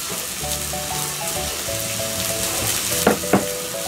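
Yakitori chicken skewers on a grill give a steady close sizzle and crackle, with a soft tonal melody playing underneath and two sharp brief pops near the end.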